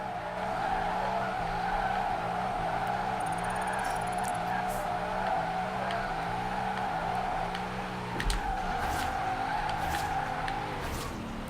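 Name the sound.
Nissan 240sx drift car revving to redline in video game Forza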